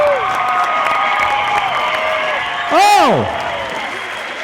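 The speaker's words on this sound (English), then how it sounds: "how about a fantastic round of applause?" Crowd applauding and cheering at a fight event, sustained clapping with a loud amplified voice shouting over it partway through.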